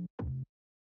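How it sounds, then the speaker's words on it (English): A buzzy bass one-shot sample used as a texture plays two short, close hits, a clipped stab followed by a slightly longer gritty low note, then cuts to silence. "And this bass is honestly more like a texture too, just kind of like a buzzy sound."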